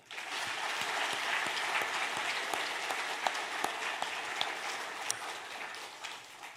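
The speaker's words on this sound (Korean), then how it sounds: "이런 마음을 담고 박수 보내겠습니다." A church congregation at a Sunday worship service applauds for husbands and wives, a soft, distant wash of clapping that swells and holds steady before tapering.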